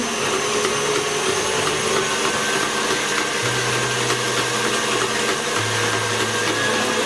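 An electric mixer beats an egg into vanilla sugar cookie batter, a loud continuous motor whir whose pitch shifts and drops partway through as the beaters work.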